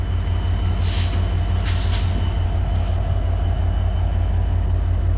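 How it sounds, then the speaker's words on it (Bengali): The Banglabandha Express entering platform 1 at Abdullapur junction, a heavy, continuous rumble of rolling carriages with a few brief hissing bursts of air brakes, loud and close. "ডান পাশ দিয়ে ঢুকছে 1 নম্বর প্ল্যাটফর্মে, প্রবেশ করছে বাংলাবন্ধা এক্সপ্রেস"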